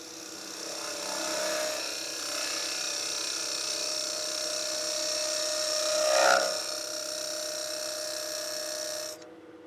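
A lathe tool hollows the end grain of a wooden box with a lidded inlay, a steady, noisy whine of a forced cut that holds for several seconds, swells briefly, then cuts off near the end.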